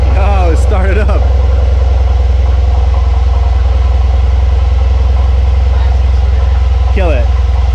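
A wrecked 2019 Mercedes C63 AMG with a Weistec Stage 2 upgrade idles in a loud, steady, low drone that holds throughout, with brief voices over it near the start and the end.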